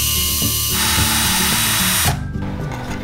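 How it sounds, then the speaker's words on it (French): A power drill bores a pilot hole in wood for a cat window safety net, whining steadily and loudly for about two seconds before spinning down and stopping. "on va faire un pré-trou en premier"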